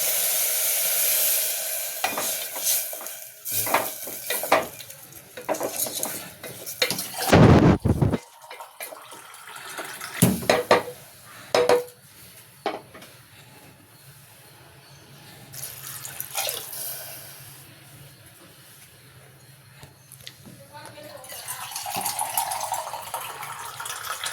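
Water pours into a pan of frying goat intestine (kodal) and meat pieces on a home stove, with loud hissing sizzle, splashing and stirring scrapes, the bursts easing into a softer bubbling simmer.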